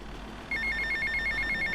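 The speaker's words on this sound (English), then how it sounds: "looks like a new phone call" An in-game mobile phone rings in GTA: Vice City, a bright repeating electronic trill starting abruptly and pulsing in a quick steady pattern over a low background hum.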